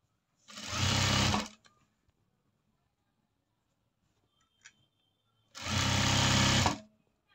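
Sewing machine stitching a 36-inch chudidar top, two loud close bursts of rapid motor-driven stitching about a second long each, separated by quiet with small handling clicks.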